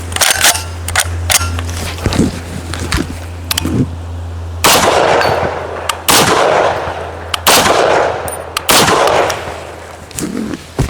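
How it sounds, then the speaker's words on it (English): An FAL rifle fires single shots in a left-right shooting drill, several loud, sharp cracks spaced a second or two apart with ringing decay, close up over a low steady hum. "I'm gonna shoot 1 round left and then we're gonna shoot 1 round right"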